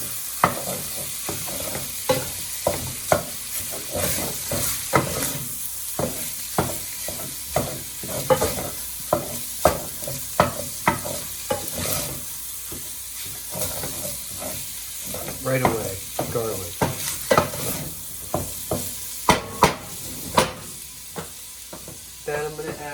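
Sausage frying in a pan for a veggie ragù, with a steady sizzle broken by repeated scraping and stirring strokes close by, and no talking over it.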